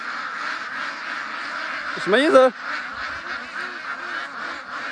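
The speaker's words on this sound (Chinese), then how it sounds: "感觉这鸭子 有点受惊了，不敢上来了。" Frightened ducks on a farm give a brief burst of harsh quacking near the middle, standing out over steady background noise while a person speaks.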